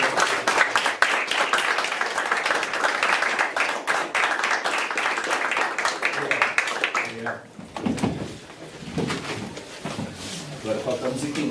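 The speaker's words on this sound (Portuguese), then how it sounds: "uma salva de palmas para todos eles" A crowd applauds with dense, sustained clapping that fades out near the end, followed by people talking.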